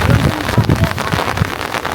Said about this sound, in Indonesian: Sedih banget sih pas nyampe ternyata hujan.